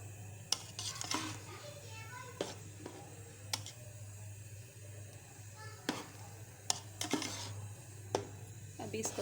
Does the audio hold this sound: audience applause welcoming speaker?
no